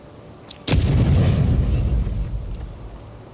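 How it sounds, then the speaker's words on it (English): A regular grenade detonates in Avowed with a sudden loud blast after a quiet lead-in, followed by a heavy rumbling roar that slowly fades. "what if I use a regular grenade?"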